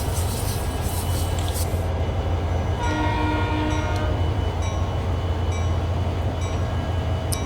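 Locomotive in Train Sim World 2 on the Sherman Hill line running with the throttle open, a steady low engine rumble under continuous noise, with a faint horn-like tone partway through.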